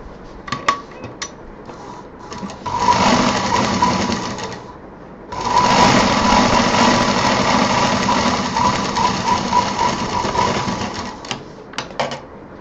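A sewing machine stitches a 10x9 fabric piece for a sling bag. It runs in two loud, fast, rattling bursts, the second one longer, with clicks and handling knocks before, between and after them.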